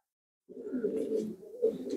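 Racing pigeons in a loft coo in soft, continuous low murmurs, close and steady, with a faint chirp or two rising above.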